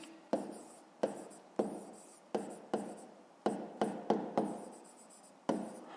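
A pen writing by hand on paper in a series of distinct, close strokes, each starting with a sharp tap and trailing off, about ten in six seconds, with no talk.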